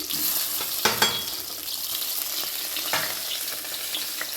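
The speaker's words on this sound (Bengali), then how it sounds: "বেগুনটা দিয়ে ভালো করে ভেজে নেব" Brinjal pieces fry in hot oil in a wok, with a continuous bright sizzle and crackle plus a few louder spatters and scrapes of stirring, close up.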